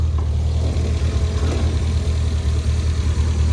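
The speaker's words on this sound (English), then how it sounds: "Holds a really nice idle when it's warmed up, and does not smoke when it's running." A warmed-up 1973 Triumph Spitfire Mark IV 1500 idles with a steady, loud, low rumble that is close by and carries on without a break, and no one talks.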